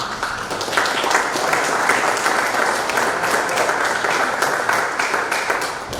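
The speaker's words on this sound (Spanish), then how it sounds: "por el politólogo Walter Araujo, para quien pido un fuerte aplauso." Audience at a lecture on Peru's nobles and caciques gives a speaker sustained, dense applause, near and fairly loud, steady throughout with no voices over it.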